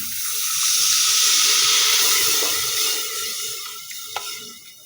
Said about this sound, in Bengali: এর মধ্যে অল্প একটু পানি দিয়ে দিচ্ছি